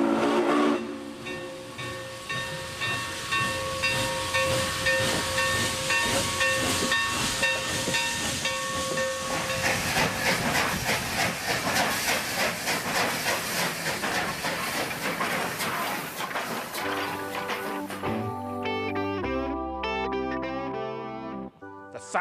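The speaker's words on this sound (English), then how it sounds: "Possibly the most mournful sound in the world, an American freight train." An American triple-headed freight train with three diesel locomotives passes, horn blaring in long sustained chords over a continuous rumbling roar and clatter that persists for the whole stretch before fading near the end.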